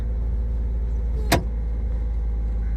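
A car idles as it pulls away in first gear with a steady, close low engine drone, broken by a single sharp mechanical clunk midway.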